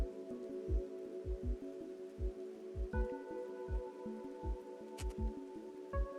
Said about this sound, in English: I love a good warm rain. It's like the sky has happy tears.